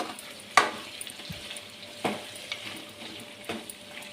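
Chicken pieces fry in hot oil with a steady close sizzle, while a spoon scrapes and stirs through the pan in three distinct strokes.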